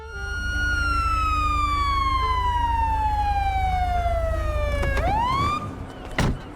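Undamaged police car siren in GTA 5, a loud, close wail sweeping slowly downward in one long tone before snapping back up into a rising whoop, over a steady engine rumble.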